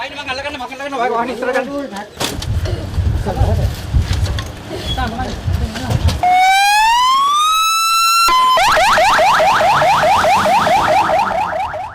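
Fire engine sirens responding to a fire at a three-storey motorcycle helmet factory in Homagama, Sri Lanka: loud rising wails and rapid yelping tones in the latter half, after a noisy, busy scene.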